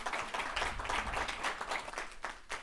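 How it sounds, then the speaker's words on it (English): Audience applause after a presentation on private schools, a brief burst of clapping from a moderate-sized crowd, steady and fairly close throughout. "Let's give Rachel one more round of applause."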